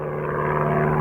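A Rutan Long-EZ, a small canard-winged aircraft with a rear-mounted pusher propeller, drones steadily in flight with a constant engine hum at even loudness throughout.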